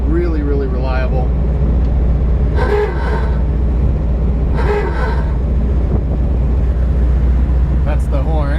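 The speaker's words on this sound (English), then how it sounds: "That's the horn. Previous owner put in a Wooga horn." A 1974 VW Thing's aftermarket Wooga horn sounds in two short bursts over a steady loud engine and road rumble, with brief voices at the start and end.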